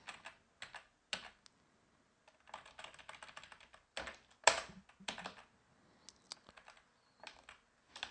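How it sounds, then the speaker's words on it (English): Someone types a password on a computer keyboard: close, crisp key clicks in short irregular bursts separated by pauses, with one louder clack partway through and no talking. "So if I type in the password."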